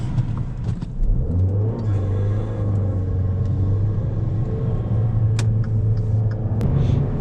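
A Dodge Dart with a badly leaking valve cover gasket, driving on the road: a loud, steady low engine rumble from inside the car that holds an even drone throughout, with a slight rise in pitch early on.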